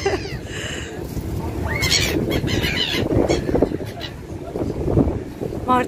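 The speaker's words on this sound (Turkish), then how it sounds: "Martıları besliyor Armağan." Seagulls squawk in shrill repeated cries while being fed from a ferry deck in Istanbul, close by amid wind noise and engine rumble, with people talking throughout.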